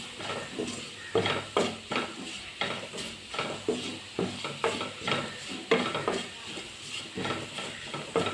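Spices and onions being mixed and fried in a pan for a potato pappadam fry, with a steady sizzle under rhythmic scraping of a spoon against the metal pan, close and moderately loud, no talking.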